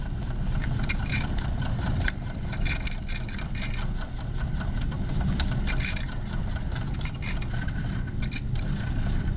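A small Stirling engine runs in a lab demonstration, giving a steady, continuous mechanical hum with faint scraping. The sound stays even and close throughout, with no talking over it.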